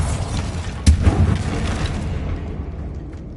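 A Bombarda blasting spell explodes in Hogwarts Legacy with one sharp, loud bang, followed by a rumbling tail that fades over a couple of seconds.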